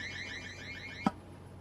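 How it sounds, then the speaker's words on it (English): An alarm sounds with a rising, repeating electronic tone that stops abruptly with a short click, fairly faint in a quiet indoor space. "My bad, that's the alarm."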